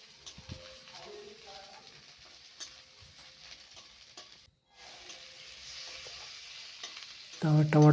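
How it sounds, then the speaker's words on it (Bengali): Tomatoes fry with onion and ginger in a pan on a gas stove for a Bengali okra and potato dish, stirred to a continuous sizzle that swells into a loud, close burst of frying and scraping at the end. "টমেটো দিয়ে নাড়াচ্ছে।"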